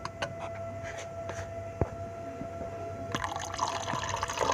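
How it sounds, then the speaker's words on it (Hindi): Water is poured into a dahi phulkiyan mixture, starting with a few faint drips and then building into a steady splashing pour over the last second and a half. "इसमें अब जो है मैं थोड़ा सा पानी डालूंगी"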